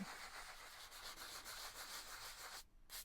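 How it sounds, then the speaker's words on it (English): Paper envelope edges are sanded with steady, close rubbing strokes, a soft continuous rasp that pulses gently before stopping briefly near the end. "you can go around and sand everything in, and it just sort of smooths the fibers and smooths the edges"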